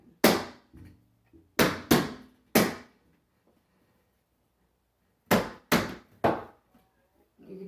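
Sharp taps on window trim as it is knocked back into its frame with the butt of a screwdriver: a quick cluster of four knocks, a pause, then three more, each crisp and close.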